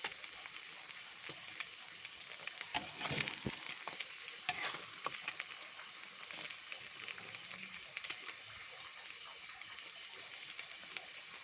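Beaten eggs frying in hot oil for a Thai-style omelette, a steady sizzle and crackle with occasional stirring scrapes, close and fairly quiet, with faint talk in the background.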